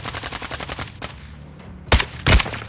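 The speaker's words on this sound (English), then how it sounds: "More shooting." Rapid automatic gunfire from Call of Duty: Modern Warfare II, a sustained loud burst of repeated shots followed by two sharp, heavy blasts near the end.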